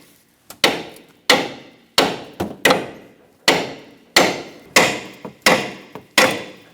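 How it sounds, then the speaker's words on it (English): A hammer striking a Chrysler 300 front control arm held up with a pry bar during a wheel bearing and hub replacement, about a dozen sharp metallic knocks at an uneven pace, loud and close, each ringing briefly before the next. "I'm going to hold my control arm up with a pry bar and give it a good tap."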